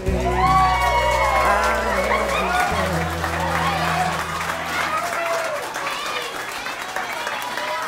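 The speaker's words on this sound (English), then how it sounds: "Huge round of applause, ladies and gentlemen." A big crowd of wedding reception guests claps and cheers, starting loud under sustained music and then thinning out as whoops and chatter continue.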